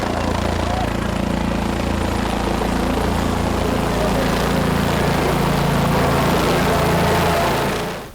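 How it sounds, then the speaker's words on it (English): A helicopter arrives at a remote village, its engine and rotor drone steady and loud throughout before cutting off abruptly at the end. "hired a chopper"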